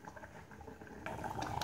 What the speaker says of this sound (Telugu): ఈ విధంగా బుడగలు వచ్చేంత వరకు ఉడికించుకుని స్టవ్ ఆఫ్ చేసుకుని పక్కన చల్లారబెట్టుకోవాలి.